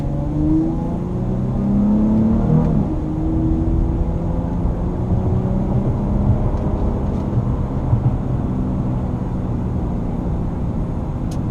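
A 2014 Dodge Challenger 100th Anniversary Edition accelerates in manual mode, its engine droning and rising in pitch through the gears with steady road noise, heard from inside the car with no talking.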